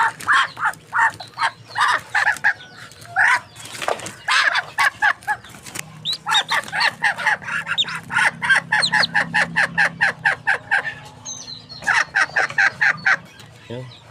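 Large chickens and ducks kept together make bursts of rapid, repeated clucking and quacking calls nearby, sometimes pausing and then starting again, with a voice talking quietly underneath.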